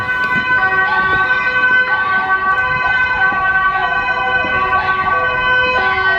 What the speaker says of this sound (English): there's a siren going off. Can I catch it?